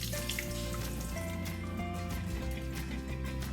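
Water pours and swirls steadily as mung bean sprouts are rinsed in a jar, a continuous close splashing and gurgling with no talk over it.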